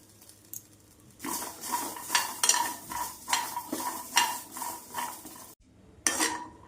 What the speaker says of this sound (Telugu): ఆ పప్పులు మళ్ళీ ఇలా బాండీలో వేసుకొని నూనె లాంటివి ఏమీ వేయకుండానే మనం వీటిని కొంచెం రోస్ట్గా వేపుకుందాం